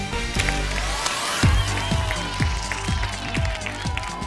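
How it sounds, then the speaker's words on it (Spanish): A studio audience applauds steadily on a Pasapalabra TV game show, its broad clapping wash running the whole time beneath loud show music with a thumping beat. "Un fuerte aplauso para ellos."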